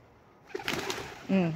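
Rooftop pigeons give a single low, close coo near the end, preceded by soft fluttering and shuffling sounds at a quiet level.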